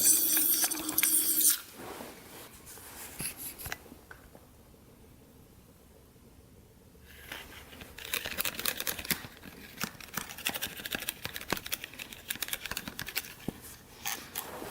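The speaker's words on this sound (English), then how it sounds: "Coat her with some WD-40 first, and then we'll put some oil." WD-40 sprayed into the spark plug hole of a Honda XR100 dirt bike engine, a hissing aerosol burst that stops, then a quiet pause before crackly handling noises and bursts of spray return, close by and with no speech.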